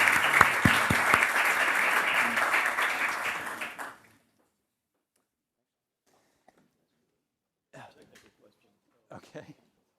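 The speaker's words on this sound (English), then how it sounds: "please join me in a round of applause for thanking our panelists" Audience applause for a panel at a talk on world economics and 5G wireless networks, a loud steady burst of clapping lasting about four seconds that ends abruptly, followed by near silence with a few faint voices.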